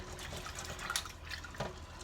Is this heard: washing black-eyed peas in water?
yes